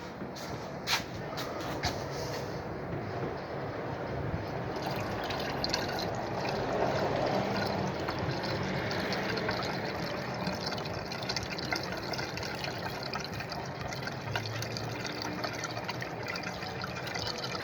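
Water is poured from a bucket into a car's windshield wiper fluid reservoir, producing a soft, steady trickling and sloshing with light handling noises and faint knocks, at low level throughout.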